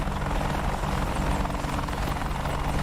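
An AH-64D Apache helicopter's rotors in the DCS World game over the Persian Gulf, a steady, dense thrum and whine held evenly throughout at moderate level with no talk.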